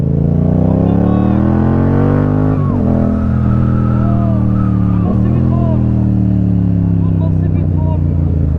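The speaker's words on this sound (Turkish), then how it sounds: "De bir gaz açalım mı?" A motorcycle's throttle is opened and the engine revs and accelerates, its pitch climbing and sweeping up and down for several seconds, loud and close, with voices faintly underneath.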